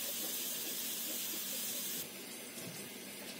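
A pot of sugar and water cooking over a high flame into caramel gives a steady, fairly faint hiss and fizz of bubbling, softening slightly partway through, with no voice.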